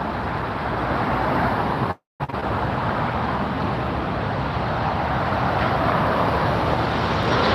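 A Delta airliner passes close by near LAX airport, a loud, steady broadband jet roar that holds throughout, broken only by a brief cut-out near the start.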